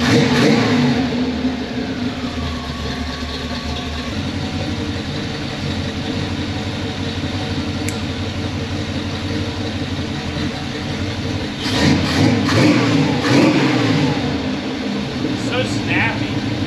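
A Pontiac Firebird V8 running an Edelbrock carburetor idles loud and close, then blips into sharper revs near the end.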